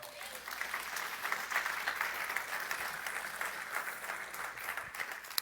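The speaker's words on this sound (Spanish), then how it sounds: "Dale un fuerte aplauso al Señor." A church congregation breaks into sustained applause during a Sunday live service, a steady dense clapping from a crowd lasting several seconds at moderate distance.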